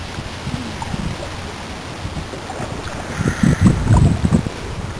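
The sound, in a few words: canoe being paddled on the Rum River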